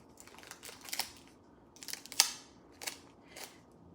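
Scissors snip through wrappers or candy while a candy Christmas tree is assembled, giving several quiet, separate cuts with short gaps between them and no voices.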